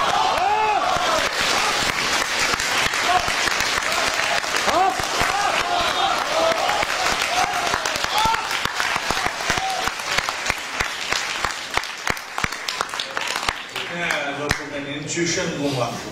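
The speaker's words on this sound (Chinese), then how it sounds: "掌声起来" Loud, sustained audience applause fills a Beijing crosstalk comedy show, with talk and laughter layered over the clapping before it thins out near the end.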